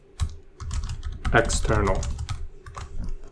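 Rapid clicking keystrokes on a computer keyboard while writing Solidity code, steady and close, with a voice speaking over the typing.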